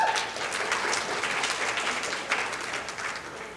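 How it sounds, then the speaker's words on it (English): Indoor audience at a housing conference claps in person, a dense, even round of applause from a seated crowd, moderately loud and gradually thinning toward the end. "Privileged to be here today and also to hear in-person applause."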